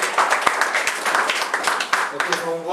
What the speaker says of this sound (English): Give Christy a round of applause